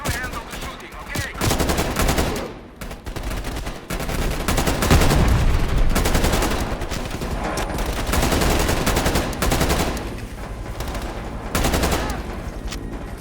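Sustained automatic gunfire during a cutscene in Call of Duty: Black Ops Cold War, dense, loud and close, with overlapping bursts and only brief gaps over a rumbling background.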